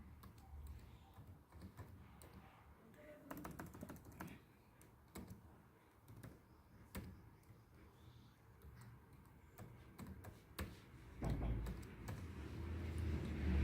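Password being typed on a computer keyboard, a close, loud run of irregular key clicks and taps with short pauses.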